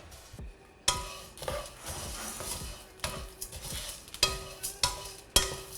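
Whole cloves and black peppercorns dry-roasting in a pan for homemade spice masala, with repeated scraping and stirring clatter, light crackle and sharp utensil knocks against the pan.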